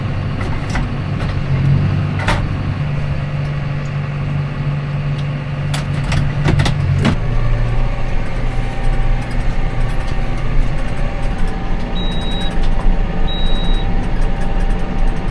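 Tractor engine running in sub-10-degree cold with a low fuel pressure fault, a steady close diesel rumble and drone throughout, with a few sharp clanks early and faint high beeps near the end.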